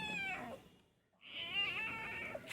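A pet cat meows in two drawn-out cries separated by a short pause, close and fairly loud, with no one talking over it.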